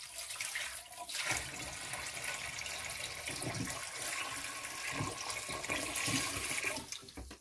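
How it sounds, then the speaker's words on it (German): Cold tap water pours steadily into a cooking pot holding zucchini, a continuous rushing stream that shifts in tone as the pot fills, close and without talk. "Jetzt gieße ich noch Wasser hinein. Kaltes."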